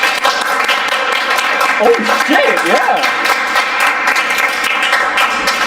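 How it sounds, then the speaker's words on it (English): An audience at a datathon kick-off claps on command, a dense, loud wash of applause filling the room with a voice speaking over it. "Everyone clap for me."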